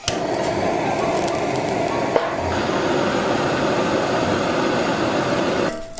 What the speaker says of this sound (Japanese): 聞こえるかな？ このパチパチ音がいいんだよね。